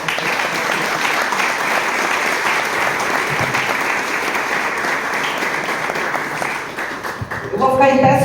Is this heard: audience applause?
yes